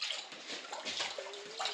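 Water sloshing and splashing in a gold pan during panning, short irregular swishes at close range, fairly quiet.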